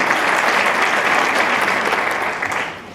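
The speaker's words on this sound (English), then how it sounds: "So let us give applause to our government for leading by example." Loud, dense applause from an audience at an aviation gender summit, sustained clapping that holds steady for most of the clip before starting to fade near the end.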